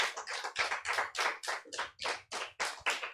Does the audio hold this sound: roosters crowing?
no